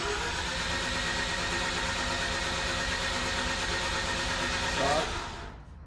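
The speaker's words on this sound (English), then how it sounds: "Clutch in, gas, full throttle." A Mazda RX8 rotary engine held at full throttle makes a steady, loud, sustained roar that stays near and constant for about five seconds, then drops away quickly as the throttle is released.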